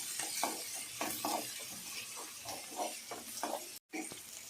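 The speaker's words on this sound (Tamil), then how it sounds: "வெங்காயம் நல்லா வதங்கிருச்சு" Onions sauté in a pan for a fish curry with garlic, giving a continuous close sizzle. Rhythmic scraping stir strokes run over it, broken by one brief silent gap.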